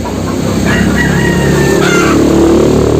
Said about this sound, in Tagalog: Pasensya na guys sa manok dahil maingay ang manok.